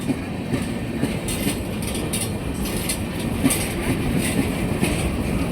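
A four-engine CSX coal train rumbles past at close range at the Silver Street crossing in Marion, Ohio, steady wheel clatter and rolling noise filling the whole clip, with faint rhythmic clicks over the rails.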